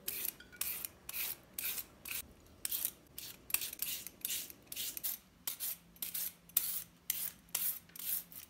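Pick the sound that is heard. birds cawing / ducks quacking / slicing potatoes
slicing potatoes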